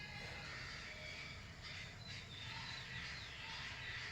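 Crows and other birds calling outdoors near a farm fence at dusk, harsh caws and squawks overlapping continuously at moderate distance over a steady background.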